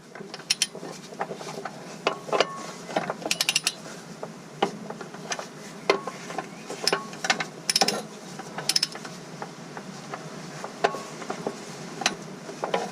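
A ratchet tightening transmission bolts in a crisscross pattern on an International 4700 truck, producing repeated close bursts of rapid clicking separated by short pauses.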